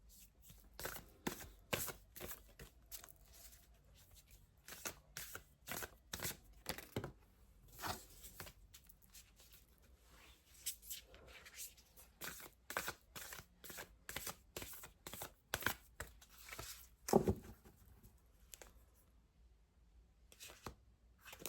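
Tarot cards being shuffled by hand, a rapid series of crisp riffling and slapping bursts in uneven rhythm, close and fairly quiet, with no talking.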